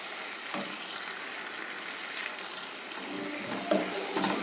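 Onion and tomato fry in a pan, giving a steady, moderate sizzle with a few faint clinks and stirring scrapes and no one speaking.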